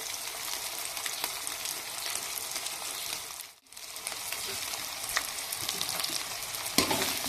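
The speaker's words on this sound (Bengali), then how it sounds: "সমস্ত মশলা দিয়ে সুন্দরভাবে কষিয়ে নেব।" Spice masala with turmeric powder frying and being stirred in a pan for a chicken dish, a continuous close hiss of sizzling with scraping strokes, a brief pause midway, no voices.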